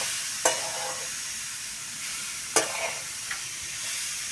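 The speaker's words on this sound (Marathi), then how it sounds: "यामध्ये आता सगळं चांगलं मिक्स होईल तोपर्यंत हलवीत राहायचं आहे" A wild vegetable sizzles quietly in a pan while a spoon stirs it, with two sharp scraping clatters and a lighter knock over a soft, steady frying hiss.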